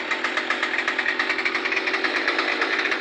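A Murray M2510 string trimmer with a Hipa carburetor runs after a cold start, its small two-stroke engine buzzing loudly and unevenly with a rapid pulsing throb, close by and alone.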